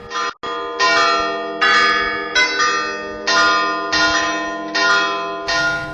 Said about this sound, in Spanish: quienes tienen que hacer sonar estas campanas que están automatizadas